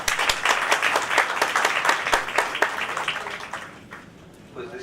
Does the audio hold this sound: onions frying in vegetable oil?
no